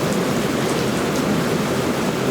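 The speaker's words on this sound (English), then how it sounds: "y'all hear the rain is coming down even harder" Heavy rain pouring down, a loud dense steady hiss of drops filling the whole stretch with no let-up and no voices.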